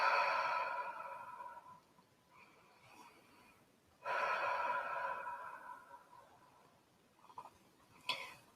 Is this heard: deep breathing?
yes